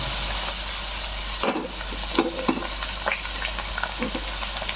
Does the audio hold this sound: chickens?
no